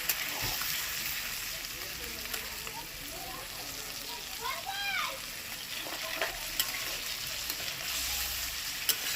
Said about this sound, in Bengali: এবার আমি জল দেব খুব বেশি জল দরকার হবে না